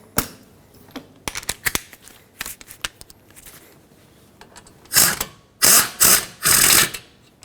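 A ratchet works on the brake caliper bolts of a 2011-2018 Volvo S60 during a front brake job, giving scattered quick clicks, then several louder bursts of rapid ratcheting near the end.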